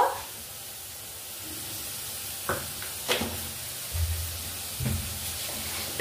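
Food frying in a pan, a continuous hiss of sizzling oil broken by several stirring knocks and scrapes.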